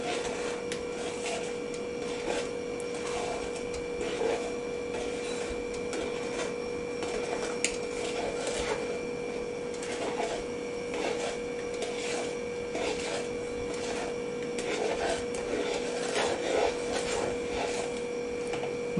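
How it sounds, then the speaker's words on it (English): Flour is stirred into rum cake batter in a single direction, making steady, repetitive scraping and rubbing strokes over a constant low background hum, with no talking. "you have to mix it in one direction"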